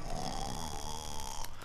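A person imitates snoring during a children's sing-along game, producing one drawn-out, rough, rattling snore that is close and steady.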